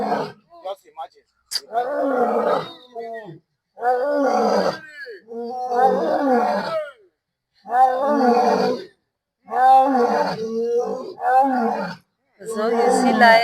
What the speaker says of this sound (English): So you see lion.